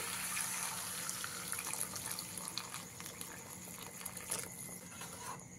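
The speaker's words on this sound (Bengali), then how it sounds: "এবারে আমি এখানে দিয়ে দিচ্ছি পরিমাণ মতন গরম জল।" Hot water is poured into a pan of spiced taro, a soft, steady splashing and pattering of liquid that stays fairly faint and even throughout.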